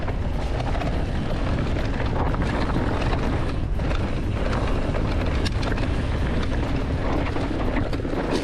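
Strong headwind buffets the microphone on a mountain bike ride along trails in Alicante, a loud, steady roaring rumble that continues unbroken and fills the whole stretch with no voices.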